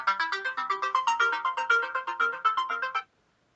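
Electronic ringtone for an incoming phone call plays a repeating melodic pattern of short pulsed tones for about three seconds, fairly clear and alone, then stops abruptly into silence.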